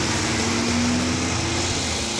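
A drag racing car accelerates down the strip, its engine a loud sustained drone with a rising tone, heard from a distance over steady crowd and track noise.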